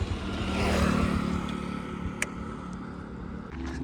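A ten-year-old Bajaj Pulsar 220F motorcycle engine idles with a steady low rumble as the bike is brought to a stop, with faint wind and a single sharp click partway through.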